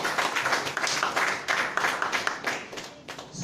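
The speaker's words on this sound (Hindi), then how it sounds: "एक बार जोरदार ताली भाई साहब के लिए।" An audience at a talk on healthy living breaks into enthusiastic applause, a dense run of close hand claps in uneven bursts lasting several seconds, with voices faintly mixed in.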